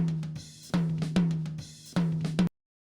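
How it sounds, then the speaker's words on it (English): A rack tom drum struck alone in a studio mix, a few close, punchy hits with ringing tone in a steady pattern, ending abruptly. "And the rack tom sounds like this"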